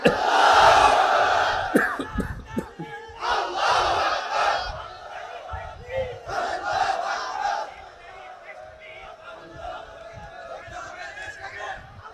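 A large crowd at a religious gathering shouts a loud takbir chant in unison, a powerful roar of voices that rises and falls in several waves before fading under a lone voice.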